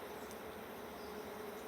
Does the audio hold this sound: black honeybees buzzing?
yes